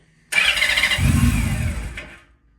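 Honda Valkyrie motorcycle engine cranking over with the choke on: a sudden loud start of the starter, followed by a lower rumbling churn that fades out after about two seconds without settling into a steady idle.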